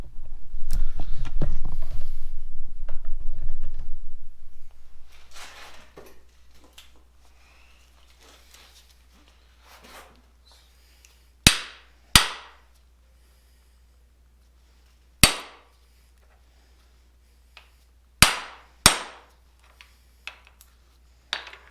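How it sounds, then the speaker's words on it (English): A hammer drives a wheel bearing hub through on a Honda Del Sol: five sharp, ringing metal blows land at irregular intervals, following a quieter stretch of handling and rustling. "I'm basically just gonna hold this up on my legs like so and just hammer it through"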